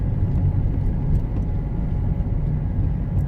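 A Ford Fiesta 1.4 TDCi diesel with a flashing gear light drives along, its engine and road noise a steady, heavy low rumble heard from inside the car, continuous with no talking.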